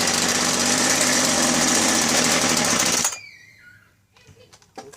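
A weed eater's small engine runs loud and buzzing for about three seconds, then cuts off abruptly, leaving quiet with a faint whine and a few light knocks.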